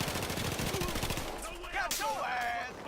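Rapid automatic fire from a FAMAS assault rifle with a Cobra sight in a Battlefield shooter, a fast burst of sharp shots filling the first second and a half, followed by game effects and faint speech-like sounds.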